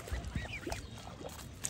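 Ducks give a few brief, nasal quacks nearby, moderately faint against a steady outdoor background.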